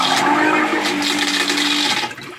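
A wall push-button toilet flushes with a loud rushing whoosh of water draining the bowl, followed by refilling water, close and continuous before tapering off.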